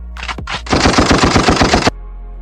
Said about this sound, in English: I think the gunshot is the AK-47.